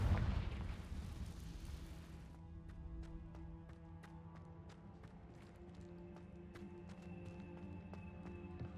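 A Confringo fire spell explosion in Hogwarts Legacy opens with a heavy, loud blast that fades over about two seconds. A quieter stretch follows, with a low hum and sharp, evenly spaced clicks and taps.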